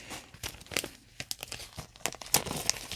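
Taped plastic comic book bag being peeled and handled, close crinkling and sharp tearing bursts in irregular clusters, fairly quiet with no talking.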